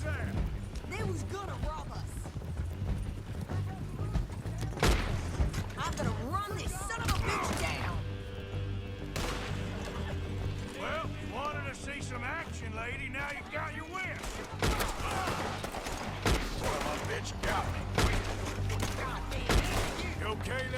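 Gunfire rings out in Red Dead Redemption 2 as a mix of shots, horse hooves and game sounds under frequent speech and dialogue, dense and continuous throughout.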